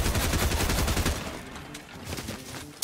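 Dense rapid gunfire, including pump shotgun blasts, fills a video game firefight. The shots are loud and close and overlap in bursts, with a sharp final shot at the end.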